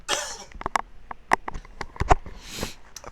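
Several short, sharp coughs and sniffs from someone narrating an OpenTTD gameplay session, scattered irregularly across a few seconds, close to the microphone with quiet gaps between them.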